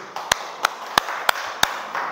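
Five sharp, evenly spaced claps or taps ring out in a classroom during a lesson, loud and distinct against a quiet room rather than a full round of applause.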